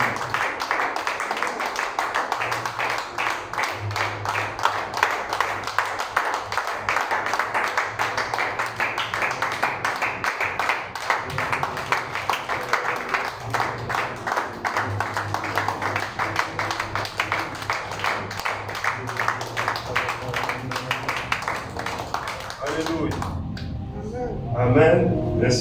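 Congregation clapping steadily through a Wednesday church worship service, a dense rhythmic patter of many hands over music and voices, fading out near the end.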